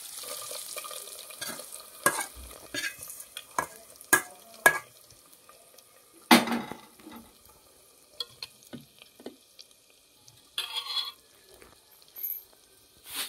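Ingredients for pappu curry fry in a pan and are stirred, giving a soft sizzle with scattered scraping clatters and sharp spatula knocks that come at irregular intervals.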